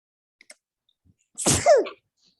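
A single sharp human sneeze, close and fairly loud, with a short intake just before the burst and a trailing voiced tail; otherwise quiet apart from a couple of faint ticks.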